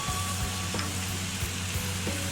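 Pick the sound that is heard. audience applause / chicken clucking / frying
frying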